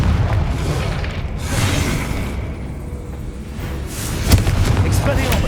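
A Confringo blasting spell detonates in Hogwarts Legacy: rumbling booms roll through the scene, with a sharper blast near the end, loud and close over continuous low background noise.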